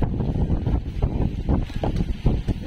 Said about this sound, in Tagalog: Yan, mahangin na naman